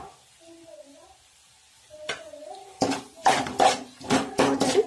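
A spoon stirs mango rice in a pan in a home kitchen, giving a run of close scraping, clattering strokes that start after a quiet stretch of low background hum.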